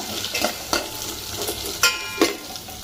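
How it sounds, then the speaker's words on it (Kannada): Leafy greens for soppu basaru sauté in a hot pan with a soft, continuous sizzle, broken by several sharp scraping stirs of a spoon against the pan, close and clear with no talking. "ಇದನ್ನು ನೀಟಾಗಿ ಒಂದು ಬಾಡಿಸ್ಕೊಳ್ಳೋಣ"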